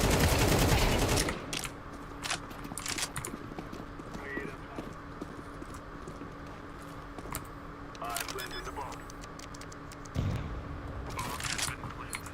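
Gunfire in Counter-Strike 2 sounds as sharp, punchy shots and a short burst, loud at the start and then scattered, over the hum of game ambience, with a voice talking at times.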